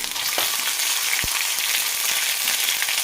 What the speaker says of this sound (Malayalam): ഇനി ഇതിലേക്ക് 1 ടീസ്പൂൺ ഇഞ്ചി വെളുത്തുള്ളി പേസ്റ്റ് ഇടാം.